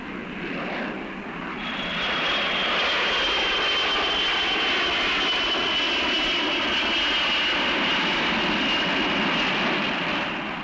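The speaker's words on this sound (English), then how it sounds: "an average of 5 airplanes are taking off or landing somewhere" An airplane taking off or landing, a steady, continuous engine roar that swells in over the first two seconds and then holds at a moderate, fairly distant level, with no talking.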